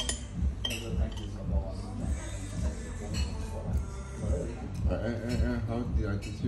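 A knife clinks against a plate while a fish head is cut, giving light metallic taps and scrapes that repeat through steady nearby talk.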